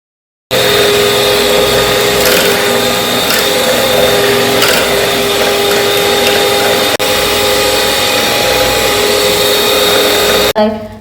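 An electric blender mixes homemade butterfly pea flower soap with fragrance oil, a loud, steady motor whir that runs unbroken for about ten seconds and then stops abruptly.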